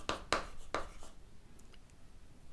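Chalk or marker scratching on a board in a few quick, separate strokes near the start, then fading into quiet room tone.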